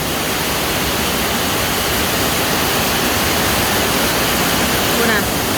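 Strong wind whips floodwater into waves, a loud, continuous broadband roar of rushing air and churning water with no break.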